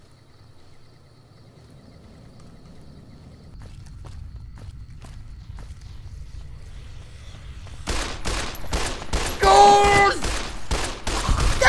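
A quick run of loud gunshots in Fallout: New Vegas comes after quiet footsteps and shuffling, firing in a tight, evenly spaced burst while a voice shouts over it.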